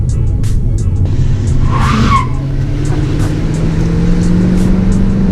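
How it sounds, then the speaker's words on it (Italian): Fiat 500 doing a burnout, its tires squealing loudly and continuously up close over a droning engine, with a brief rising screech in the middle. "Non c'è bisogno di avere una muscle car come quella per sgommare"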